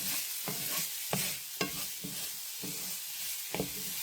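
Meat browning in a pan for chicken pot pie, a steady close sizzle broken by several sharp scraping stirs of a utensil against the pan, spaced roughly every half second to second.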